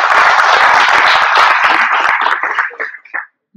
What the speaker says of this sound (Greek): Έχεις ένα χειροκρότημα.